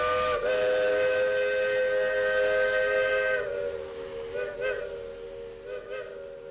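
A steam locomotive whistle on a working Cuban railroad sounds one long, loud, steady chord-like blast, then shifts pitch slightly and wavers toward the end over a low rumble.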